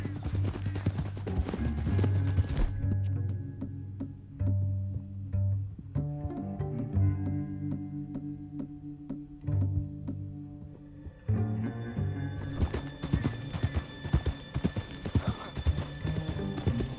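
Horse hooves clip-clopping in Red Dead Redemption 2 as riders move through a canyon, a loud, steady rhythmic beat close by, with music and shifting background sound layered over it.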